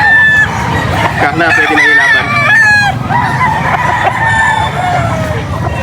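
A gamecock rooster of derby size, setter bloodline and about a year old, crows at a pet market in Angeles. Several drawn-out crows rise over a noisy crowd, and people talk close by.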